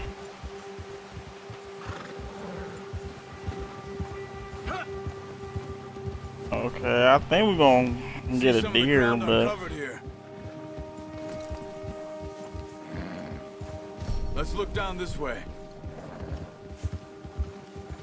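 Horse whinnies and snorts plus steady hoofbeats while riding in Red Dead Redemption, loud neighing bursts mid-clip over a constant clopping rhythm and faint rain, with someone talking throughout.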